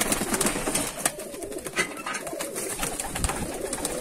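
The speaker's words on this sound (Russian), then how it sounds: "отборная птица, ребята" Fighting pigeons coo inside a loft, a dense chorus of throaty, overlapping coos and rustling from many birds, steady and moderately loud throughout with no talking.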